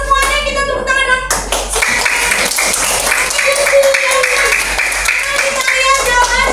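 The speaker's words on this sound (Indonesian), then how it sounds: "Semuanya kita tepuk tangan dong." Schoolchildren in a classroom clapping together as a group, a loud, dense patter of many hands that runs throughout, mixed with children's voices and shouts.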